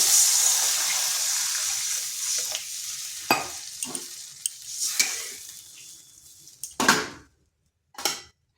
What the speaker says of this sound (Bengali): এরপর এখানে দিয়ে দেবো জল।